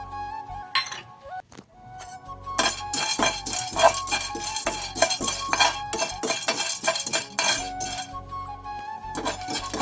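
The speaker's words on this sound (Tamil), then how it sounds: "அடுத்து நம்ம பொட்டுக்கடலை எடுத்து வச்சுருந்தோம்னா அதையும் லைட்டாக வறுத்துக்கலாம்." Roasted gram (pottukadalai) being lightly dry-roasted in a pan for laddu, heard as steady clinking and scraping of a ladle against the metal pan with rattling grains, close and fairly loud throughout, without talk.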